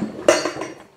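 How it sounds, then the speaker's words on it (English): A heavy Squire Behemoth motorcycle security chain clinking and rattling as it is handled, a sharp metallic clatter followed by a few softer jingles, close and alone. "excuse the noise. That's the chain that goes with it."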